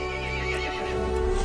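A horse neighs loudly and close in a dark fairy-tale setting, with hooves clip-clopping steadily beneath the whinny throughout the short stretch.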